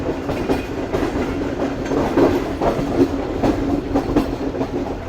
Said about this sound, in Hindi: 10:30 बजे हमारी ट्रेन अप्रोच बना रही है रोड़ी जंक्शन रेलवे स्टेशन पर